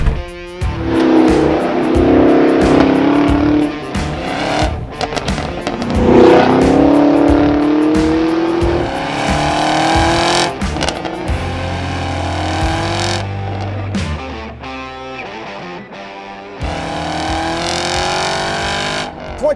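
A 2022 Chevrolet Camaro SS 1LE with a manual gearbox and launch control accelerates hard, its V8 rising loudly through the revs with gear shifts and pauses, then settles into a lower idle and a later rev.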